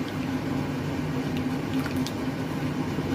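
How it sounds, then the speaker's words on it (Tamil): Masala paste of ground neem leaves, greens and seeds simmering in a cooking pot, giving a steady close bubbling hiss with a low hum and no voices throughout. "மசாலா சூப்பராக வெந்திக்குது பாருங்கள்."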